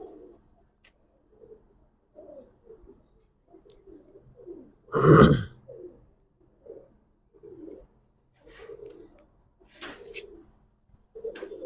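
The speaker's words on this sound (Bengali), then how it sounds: "এটা একটা নর কবুতর" Soft, low coos from a male pigeon repeat in short bursts close by, with one loud brief flutter-like burst midway through.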